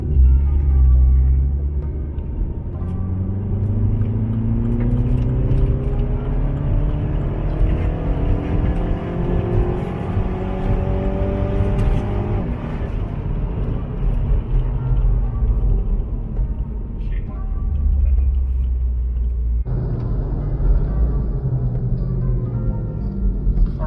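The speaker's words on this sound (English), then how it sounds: "we're gonna accelerate the car in a very high gear so that we stress the car" Tuned car accelerating hard in a very high gear during an ECU data-logging run, with a steady engine drone rising in pitch over twenty seconds, heard from inside the cabin, then easing off near the end.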